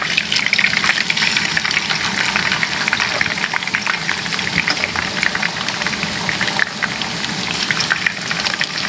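Tilapia fish frying in a pan of oil, a loud steady sizzle that crackles close by and carries on unbroken throughout.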